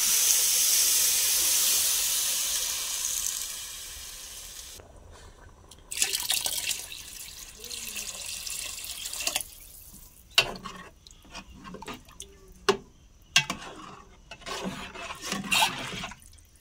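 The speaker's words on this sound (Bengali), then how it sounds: "পানি দিয়ে দিচ্ছি।" Water poured onto fried rice in a hot pan sends up a loud steaming hiss, which fades into bubbling, intermittent splashes and drips close by.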